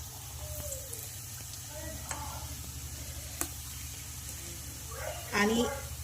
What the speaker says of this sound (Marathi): मी बाकीचे सुद्धा वडे असेच तेलामध्ये सोडणार आहे